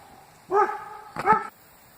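A female farm dog on a homestead lets out two sharp, loud barks about three-quarters of a second apart, nearby and alone, with quiet in between.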